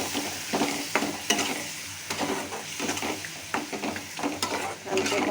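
A chili paste is stirred and fried in a pan, with continuous scraping and spatula clatter over a close, lively sizzle.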